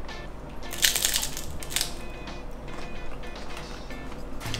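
Crunchy bites into corn tortilla chips topped with guacamole, a loud cluster of crackling crunches early on, then softer chewing crunches over faint background noise.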